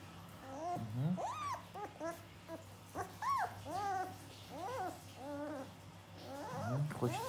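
A 28-day-old German shepherd puppy whimpers close by in a string of thin, rising and falling whines and squeaks, some drawn out and some short.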